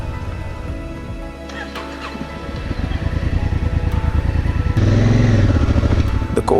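A Honda Africa Twin motorcycle, struggling in cold, thin air at 12,500 feet, cranks and restarts after stalling, its engine settling into a loud, steady close idle with no talk over it.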